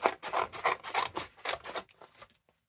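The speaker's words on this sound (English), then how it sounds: "now I'm just going to snip off more than I need" Scissors snip through craft material for a garden-themed journal, giving a run of about seven crisp, close rubbing cuts in quick rhythm that fade into quieter trimming near the end.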